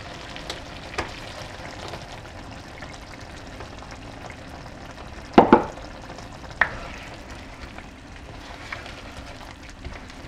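Crab curry simmers in a pan as coconut milk is added, a low steady bubbling sizzle with a couple of sharp clinks and stirring knocks near the middle.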